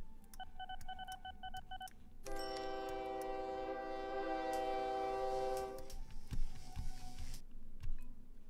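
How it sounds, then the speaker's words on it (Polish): Train arriving in OpenTTD, a railway simulation game, with a busy electronic beeping sequence followed by a sustained multi-tone horn-like chord lasting several seconds, then low rumbling thuds near the end; no talking. "A tu jakiś pociąg wjechał i nie może zawrócić."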